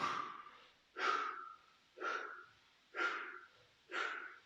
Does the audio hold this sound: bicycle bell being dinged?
no